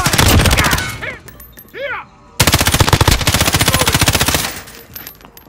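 Automatic gunfire in the video game Call of Duty Modern Warfare, in a Team Deathmatch match on Cheshire Park: rapid loud bursts of shots, a brief pause with short voice callouts, then a long sustained volley.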